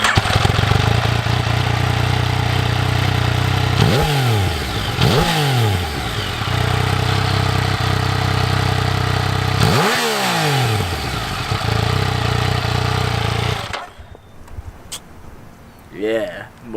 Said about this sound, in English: Yeah, motorcycles.